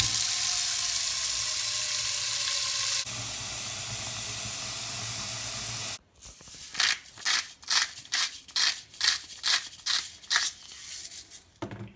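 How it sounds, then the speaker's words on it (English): Sausages frying in a pan give a steady hiss and sizzle for several seconds, followed by a rhythmic run of sharp scraping bursts, with no speech. "Okay, the sausages are in the pan. I'm just going to fry this up, break it up a little bit"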